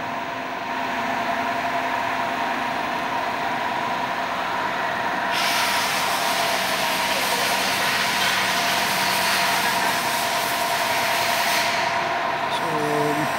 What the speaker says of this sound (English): for loading and unloading the baggage, boom will go up by push button and it will go down